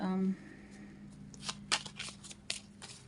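Tarot cards are shuffled by hand in a pick-a-card reading: a brief low voice at the start, then a run of crisp riffling snaps and shuffling flutters, close and fairly soft.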